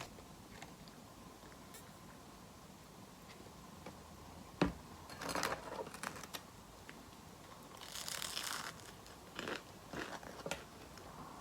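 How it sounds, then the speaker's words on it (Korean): Crunchy bites into a reheated bungeoppang, a fish-shaped Korean pastry, heard up close as a few separate crisp crunches and chewing bursts spread over a quiet room background, with no talk. "그 붕어빵은 어제 아빠가 사온 건데 제가 얼리고 내일 먹는다고 해가지고 지금 다시 구웠어요. 그래서 이렇게 먹어볼게요."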